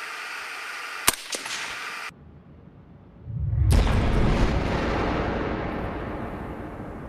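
A suppressed .223 rifle fires one sharp, loud shot early on, followed by a few fainter clicks. After a pause a deep rumbling roar swells up and lingers steadily to the end.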